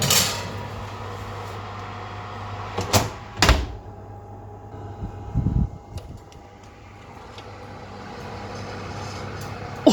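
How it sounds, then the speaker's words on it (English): An oven door shuts on a tray of gingerbread cookies with a couple of sharp knocks and clatters, followed by a later thump, over a steady low kitchen hum. "So into the oven they go for about 10 minutes"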